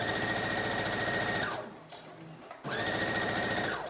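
A sewing machine stay stitching the top center of a fabric ruffle runs in a steady fast whir, stops briefly for about a second, then starts again, close and alone without talk.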